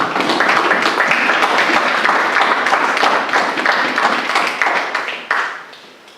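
A church congregation applauds the word of God, dense sustained clapping from many hands filling the room, then thinning out and fading near the end.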